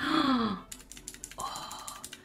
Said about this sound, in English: And then we have a pocket keyboard.